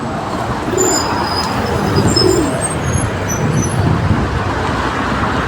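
Faint bird calls and soft cooing rise briefly over a constant wash of nearby road traffic.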